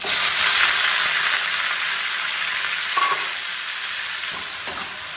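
Onion paste hits very hot oil with cumin and bay leaves for a mushroom curry, an instant loud hiss that settles into a steady close sizzle with faint stirring sounds, no talking.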